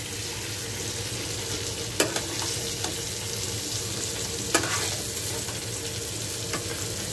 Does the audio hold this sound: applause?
no